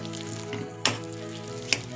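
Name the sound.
dal khichdi ingredients frying in pan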